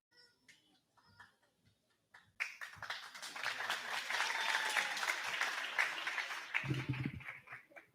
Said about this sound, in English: Please welcome them with a loud round of applause.